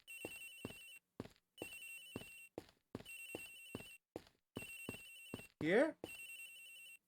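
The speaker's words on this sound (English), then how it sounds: "Agent Hicks's phone, it's ringing from somewhere, sir!" Agent Hicks's phone rings in Ace Attorney Investigations, a looping electronic ringtone in repeated bursts with short gaps, broken near the end by a louder rising game sound effect, while a brief spoken word sits between rings.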